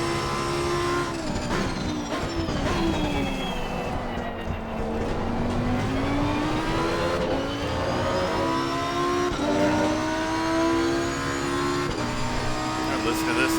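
A Lamborghini Huracan EVO race car in the Assetto Corsa Competizione racing game, wet conditions at Zolder, screams loudly and continuously through rising and falling revs and gear shifts, with someone talking over it.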